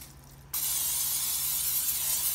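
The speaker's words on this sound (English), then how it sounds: "I'm actually gonna spray mine down with olive oil as well," A short burst of olive oil spray hisses loudly and continuously from an aerosol can, starting abruptly after a quiet moment.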